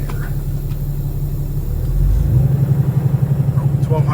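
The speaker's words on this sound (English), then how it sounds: "I think if we take the brake off, it will probably rev higher" A 2017 Kenworth T680 truck with a Cummins ISX diesel engine idles with a deep, close rumble, then revs up midway into a louder, pulsing drone that holds to the end.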